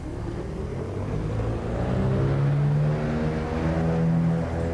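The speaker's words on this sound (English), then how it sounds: "Listen to those engine sounds." Steady roar of Britten-Norman BN-2B Islander engines in X-Plane 11 during takeoff, rising, revving harmonics, loud and continuous throughout, no talking.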